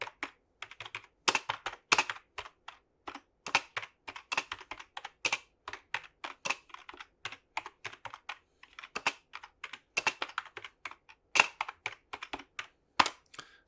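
Keys clatter on an old Compaq Presario keyboard with a retro Windows logo, a close, steady run of sharp clicks and thuds in uneven bursts, with no voices.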